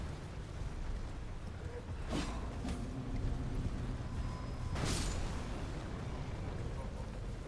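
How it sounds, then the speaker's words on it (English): Two sharp broadband blasts, a few seconds apart, from enemy explosions in Elden Ring, heard over a steady game background with some talk mixed in. "Why are there nothing but explosion dudes around here?"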